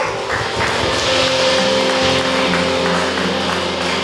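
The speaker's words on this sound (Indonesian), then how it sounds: "Tepuk tangan untuk Tuhan." Wedding guests applauding at a Christian church ceremony in Hurung Bunut, a loud, continuous wash of clapping from a large group, steady for several seconds with a low hum beneath.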